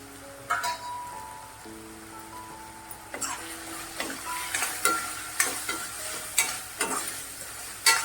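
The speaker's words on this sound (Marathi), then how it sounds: "चांगलं परतून घ्यायचं आपल्याला." Sprouted green moong frying with goda masala and onion-garlic masala in a pan, with a background sizzle and repeated sharp scraping stirs that come in a brisk, uneven rhythm toward the end.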